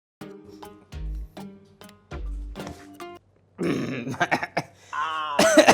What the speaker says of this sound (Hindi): खांसी वीसी आ गई भाई।